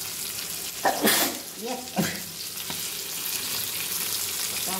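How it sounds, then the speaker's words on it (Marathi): Quiet sizzle of fish frying in a pan, with brief crackling bursts and stirring scrapes near the start, then settling into a soft steady fry; a short spoken word is heard. "आता आपलं हे फायनली मच्छी फ्राय झाली"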